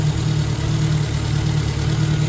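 A Ford Anglia engine with a newly fitted Weber carburettor idles steadily with a low, even rumble and no change in pace, close by.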